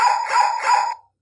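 A wireless doorbell's dog-bark ringtone plays three quick electronic barks in a row, bright and close, then cuts off cleanly.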